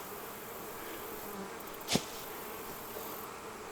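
Honeybees buzz in a steady faint drone around a hive in a bee yard, with a brief louder buzz as one passes close.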